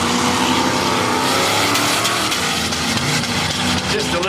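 A drag racing car revs hard on the foot brake to spin its tyres at a street drag event. The loud engine roar holds steady and close for the whole stretch, with crowd and commentary noise mixed in.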